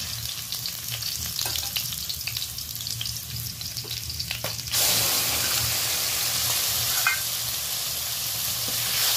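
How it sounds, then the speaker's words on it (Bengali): Steady frying sizzle of potatoes with whole spices in a pan, with occasional scraping stirs, the sizzle growing louder and more intense partway through; no voices. "ফোড়নের সাথে আলুটা বেশ ভাজা ভাজা হয়ে গেছে।"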